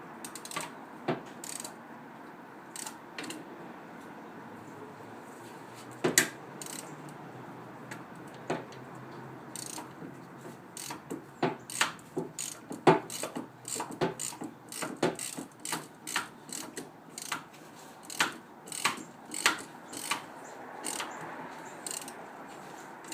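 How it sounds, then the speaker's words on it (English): Ratchet wrench turning while a ball joint is installed on a Jeep WJ: repeated sharp clicking in short bursts and pauses, close-up, growing busier toward the end, over a low background hum. "On top of this with my ratchet."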